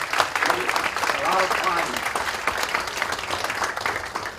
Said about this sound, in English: So let's give a nice applause to all the youngsters who spend